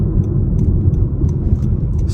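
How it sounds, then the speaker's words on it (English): A 2024 Honda HR-V Sport's 4-cylinder engine drones steadily while driving, a constant low rumble with road noise and no talk. "Honda makes a really good sounding 4-cylinder engine"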